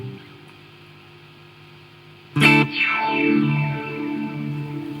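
A Boss Tera Echo effects pedal is pushed into feedback with reverb and delay. After a quiet hum, one sharp burst hits and smears into swirling, descending repeats and a long, sustained wash of echo.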